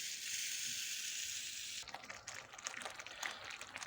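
Water poured into a pan of semolina halva with cheese and stirred in, a steady hissing sizzle giving way to wet, uneven scraping and bubbling as it mixes.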